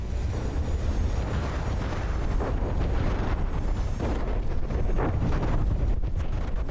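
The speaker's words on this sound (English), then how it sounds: "The sounds of the cannons exploding in the air is unbearable" Cannon shells bursting in the air during an aerial battle in From the Depths, a dense, continuous rumble of overlapping explosions with repeated louder booms across the clip, no voices.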